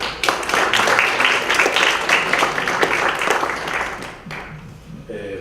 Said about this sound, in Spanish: un fuerte aplauso para nuestro invitado de hoy